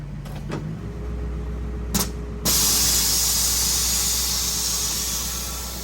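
A spray can hisses while painting the upper shock tower of a 1962 Cadillac during a front air suspension refresh, with a few short taps first, then a long steady close hiss fading slightly at the end.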